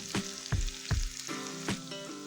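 Mushroom dish ingredients frying in a pan, a loud close sizzle with several sharp bursts of spatula stirring and scraping against the metal, steady throughout.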